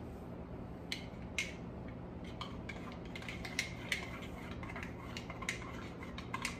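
Light clinking of a spoon against a bowl while curry goat seasoning is mixed, soft irregular taps over a quiet room background with no talk.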